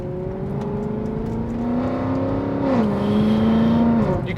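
A Mercedes CLK63 Black Series V8 revs hard and loud, its pitch climbing steadily, dipping briefly on a shift, then holding high near the close, with no talk over it.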